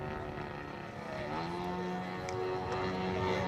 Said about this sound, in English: Listen to the power of that engine, 210 cc's.